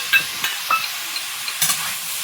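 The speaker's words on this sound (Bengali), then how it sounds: "এবার আরও একটু নেড়ে করে ভাজবো" Ginger paste, green chili and tomato fry in a pan, with a few sharp spatula scrapes and taps over a soft, quiet sizzle.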